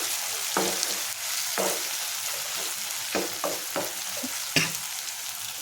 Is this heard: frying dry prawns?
yes